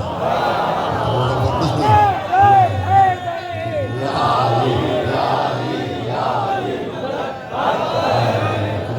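Majlis audience at Qadam Gah Mola Ali shouting religious slogans in unison, repeated rhythmic crowd chants rising in waves with a leader's voice between them, loud and reverberant in a large gathering.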